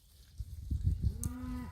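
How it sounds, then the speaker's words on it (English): Cattle, with baby calves among them, are driven down a road onto spring grass, with low moos close by over soft footsteps and rustling, and a longer drawn-out moo near the end. "as the cows come ambling down the road"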